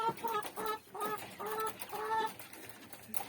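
Domestic quails at feeding time give soft, repeated clucking calls in short bursts, close by in a quiet pen with no talking.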